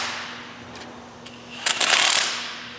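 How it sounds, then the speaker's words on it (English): An impact wrench with a 9/16 socket tightens nuts while row cleaners are assembled, giving one short, loud, rattling burst of under a second after a quiet stretch of faint background hiss. "you will need a 9/16 socket on an impact to tighten these up"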